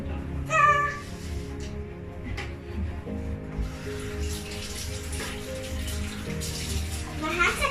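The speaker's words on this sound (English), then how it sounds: "now let's wash your hand first" Water running from a tap at a home sink while a young child washes his hands during cake baking, a steady splashing stream with a brief high squeal near the start and faint background voices.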